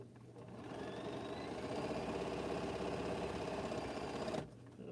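Sewing machine chain piecing quilt blocks, running in a steady, fast, even stitching whir for about four seconds before stopping abruptly.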